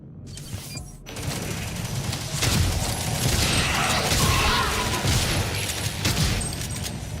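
Shotgun blasts in the first-person shooter Prey (2016): loud, dense bursts of booming fire with clattering mechanism noise, several shots in quick succession over a continuous roar, no talk.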